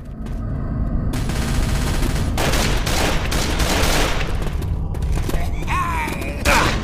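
Dense, continuous automatic gunfire in Left 4 Dead 2, with loud, close bursts of rapid shots running almost without pause and a voice briefly heard near the end.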